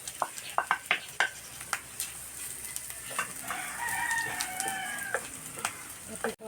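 Chopped garlic fries in a hot pan with a steady sizzle, broken by sharp clicks and scrapes of stirring, while a rooster crows faintly in the background partway through.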